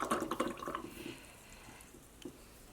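Watered-down white paint is splashed and flicked from a lid onto a mixed-media paper scrapbook layout, giving a brief cluster of wet spatters up front that fades into quiet room tone with one late tap.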